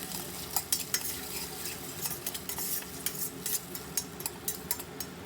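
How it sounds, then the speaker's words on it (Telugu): Onions, potato and carrot with salt and turmeric being stirred in a frying pan, a steady sizzle under repeated sharp scrapes and clinks of a spoon against the pan, close and fairly loud. "ఈ ఆలు ముక్కలు అలాగే ఈ క్యారెట్ని కూడా వేసేసి కొద్దిగా సాల్ట్ చిటికెడు పసుపు వేసి బాగా కలుపుకుందాము"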